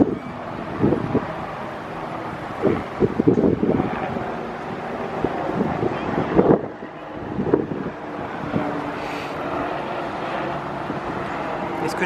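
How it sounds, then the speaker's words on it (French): Wind on a San Diego beach striking the microphone, producing a sustained low rumble with irregular thumping gusts and bursts over about twelve seconds, and muffled talking faintly mixed in. "Attendez, il y a du vent, peut-être il faut que je me rapproche."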